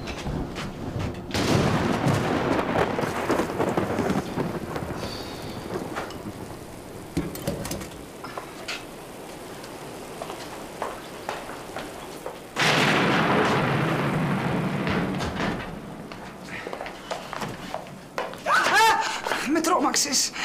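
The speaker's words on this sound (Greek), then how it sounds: "Τι καταιγίδα είναι αυτή σήμερα." Heavy rain with rumbling thunder bursts, swelling and easing in waves, while a voice speaks intermittently over the storm.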